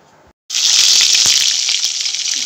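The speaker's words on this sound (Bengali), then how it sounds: "দেখো মাথাটা ভেজে নিচ্ছি" A fish head hits hot oil in a pan for a home-style fresh fish curry; after a brief quiet moment, a loud, steady sizzle bursts in close by and holds without talk.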